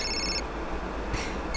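Telephone ringing in a comedy movie, short electronic ring bursts separated by a pause, moderately loud over a low background hum.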